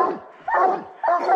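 Bear hunting hounds in the North Maine woods bark in three quick, close, loud yelps with short gaps between them, with no talk over them.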